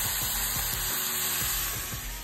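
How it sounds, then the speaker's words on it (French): Spices stirred into pork sizzling in a hot frying pan for creton, a steady close frying hiss with soft scraping stir strokes. "J'ajoute mes épices. Je vais tout bien mélanger ça dans la poêle."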